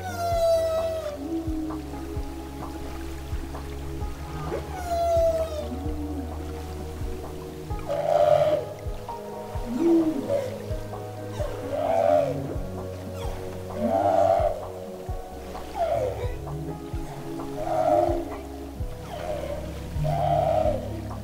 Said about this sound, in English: we heard the low humming noise with high chirps in between that created a musical melody